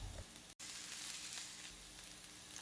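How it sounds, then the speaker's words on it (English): Chopped onion frying with ginger garlic paste in a pan, a soft, steady sizzle with a brief gap near the start, faint and continuous, no voices. "Then add ginger garlic paste and fry till onion turns golden brown."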